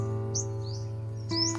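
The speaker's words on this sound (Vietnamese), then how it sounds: "Tôi mới nghe chim con kia." A small bird chirps a few thin, rising tweets, faint and somewhat distant over a steady low hum, heard near a home aviary of quail in a small fruit garden.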